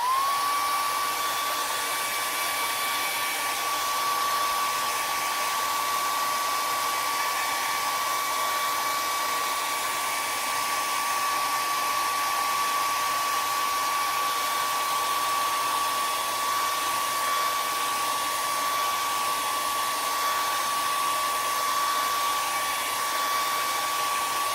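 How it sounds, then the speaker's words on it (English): A hair dryer blows steadily and continuously for the whole stretch, drying acrylic paint on a teacup painting, a constant close whine with no breaks. "All right, I'm going to dry this."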